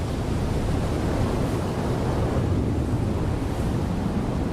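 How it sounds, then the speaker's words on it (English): Rough ocean surf crashes and rolls continuously at close range, a loud, dense, broadband wash of breaking waves with wind buffeting, steady throughout with no voices. "his mother chooses a particularly rough surf day"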